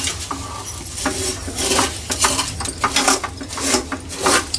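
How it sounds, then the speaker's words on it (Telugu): Vermicelli roasting and being broken in a pan for sheer khurma, with a busy rattle of dry strands crackling and a utensil scraping and clattering against the metal, fairly loud and close. "ఇట్లా విరగొట్టుకోవాలండి మనం వేయించేటప్పుడు మంచిగా."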